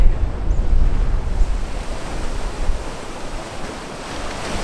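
Ocean waves break below the rocks at Ballintoy as a steady, broad roar of surf mixed with wind buffeting the microphone, loud and continuous with no voices.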